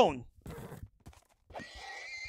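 A horse neighs in a video game, a brief rising whinny at the start followed by game noises and someone talking over the action.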